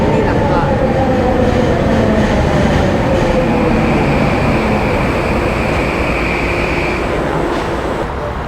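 SkyTrain metro train at Lougheed station in Vancouver, a loud, steady rumble and whine of the train close by, with a rising tonal hum and no break in the noise.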